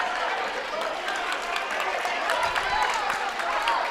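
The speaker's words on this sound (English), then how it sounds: "The crowd is into this one now." Basketball game crowd cheering and clapping, a steady, dense roar filling the arena without a break, with no clear single voice above it.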